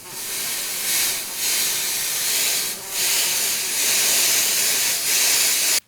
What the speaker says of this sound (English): What do you think bug spray's for?